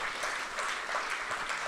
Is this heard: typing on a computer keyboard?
no